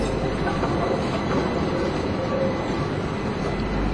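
A Milan tram rounds the terminus loop, steady rolling rail rumble with faint wheel squeal, close and continuous for a few seconds.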